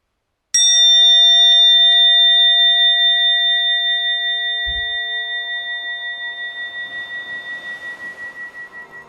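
A single bell struck once to close a podcast episode, a sharp bright ding that rings on with a long, slowly pulsing decay for several seconds; no talking.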